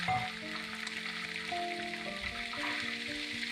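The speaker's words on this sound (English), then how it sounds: "Fry the pork also for 7-8 minutes till it gets a little crisp on the edges." Pork meat frying in oil in a pan for Goan sorpotel, giving a continuous close sizzle and crackle with some bubbling and faint tonal hums, no talk.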